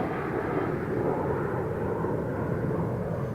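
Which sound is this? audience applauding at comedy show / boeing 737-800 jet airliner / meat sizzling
boeing 737-800 jet airliner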